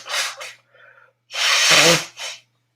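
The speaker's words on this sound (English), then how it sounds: "My sneezes are powerful and would spray droplets" One forceful human sneeze bursts out after a quick sharp intake of breath, loud and close, followed by a short breathy exhale.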